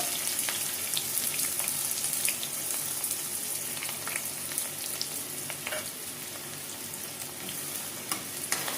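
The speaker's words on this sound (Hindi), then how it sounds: "प्याज को हल्का गोल्डन कलर आने तक हमें भूनना है।" Finely chopped onions fry in a pan with a continuous bright sizzle and crackle, punctuated by scattered pops and occasional scraping stirs, close and steady throughout.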